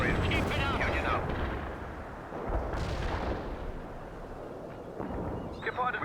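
Artillery barrage firing in the war game Wargame: Seeing the Elephant, producing a dense, continuous rumble of heavy booms and blasts that rolls on for several seconds at loud, steady volume.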